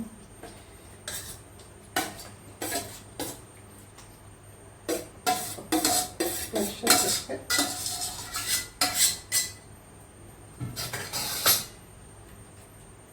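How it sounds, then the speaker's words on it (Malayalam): Cooked country duck is added to a curry and stirred in a pan, producing bursts of clattering metal spoon-on-pan scrapes and clinks, quiet at first, then busier and denser through the middle, with a brief spoken word. "നമ്മൾ വേവിച്ച് വെച്ചിരിക്കുന്ന താറാവ് അതാണ് ചേർത്ത് കൊടുക്കാൻ പോകുന്നത് കേട്ടോ ഇതൊക്കെ ചേർത്ത് കൊടുക്കണം"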